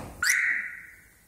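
A single short electronic chirp from a Mazda 626 GF facelift alarm sounds when the lock button is pressed, a bright tone that starts sharply and fades out over about a second in a quiet setting.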